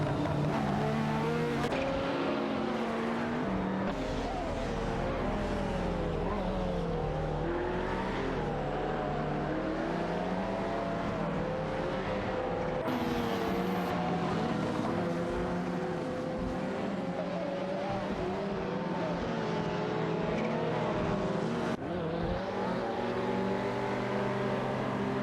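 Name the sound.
race cars in a video game, McLaren F1 LM and Ferrari F40 LM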